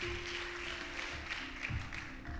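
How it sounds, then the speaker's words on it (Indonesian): A church congregation claps during a sermon, giving applause to Jesus: a steady wash of many hands clapping together, moderately loud and sustained throughout, with no clear voices on top. "Tepuk tangan bagi Tuhan Yesus"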